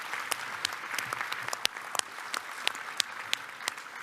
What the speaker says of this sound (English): I think they all should get a round of applause.